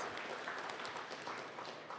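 Faint, steady applause from an audience at a technical talk gathering, a soft wash of many hands clapping evenly for two seconds at a distance.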